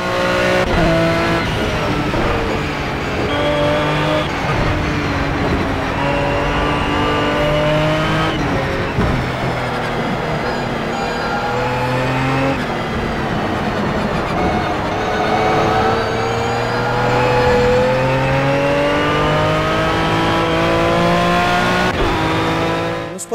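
A race car engine roars continuously in the Project CARS video game, loud and close, with shifting revs and tire noise rising and falling over about twenty seconds without a break.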